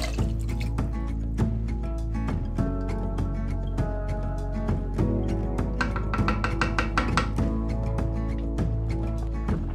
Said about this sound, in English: now I add enough water to cover the lentils